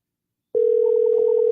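A telephone call goes unanswered as a single steady electronic ringback tone sounds for about one second, clean and alone after a moment of silence.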